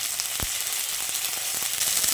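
Ginger garlic paste frying with onions in a pan, a steady bright sizzle with a single low thump from the pan partway through and faint scraping stirs, no voices.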